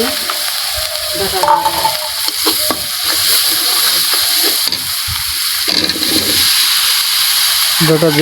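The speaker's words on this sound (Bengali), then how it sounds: "মশলাটা একটু ভেজে" Masala spices fry in a hot pan for a fish curry with stems and potatoes, a loud, steady sizzle with bursts of stirring and scraping, and a voice talks briefly over it.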